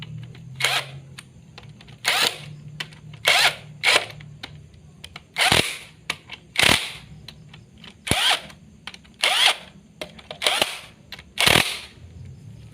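Power tool driving and tightening bolts on a Toyota 3SZ engine block from a Daihatsu Gran Max/Luxio during piston and ring assembly: about ten sharp, loud bursts in an irregular rhythm over a low hum, with no talk.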